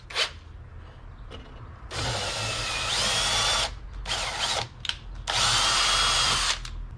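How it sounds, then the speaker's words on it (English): A power drill whirs in several short bursts while cleaning threads on a Yamaha XS650 motorcycle seat pan, revving and stopping between runs, close and fairly loud. "Now you got to be careful if you're doing it with the drill."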